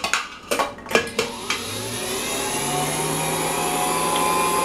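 A Hamilton Beach Model 40 triple milkshake mixer is switched on. A few knocks and clicks come first, then the motor settles into a steady, close, continuous whirring hum at low speed.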